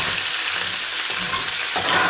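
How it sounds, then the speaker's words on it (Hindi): Medium-sized pieces of meat frying in a pan for Afghani Qabali pulao, a steady close sizzle running throughout with a brief stir partway through. "इस तरह फ्राई करें।"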